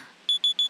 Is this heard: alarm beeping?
yes